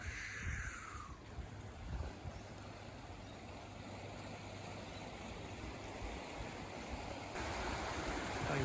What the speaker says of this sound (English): Water's really flowing in now. Must come in from the bottom somehow. Loads of current in there and ripples. Water's coming up.